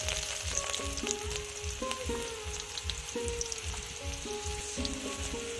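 Black cumin, garlic, onion and green chili frying in oil, a soft continuous sizzle with faint stirring clinks, close and steady.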